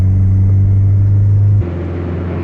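Honda Civic engine held at high revs, a loud steady droning hum that suddenly drops to a lower, rougher idle-like rumble partway through, close-up with no talking.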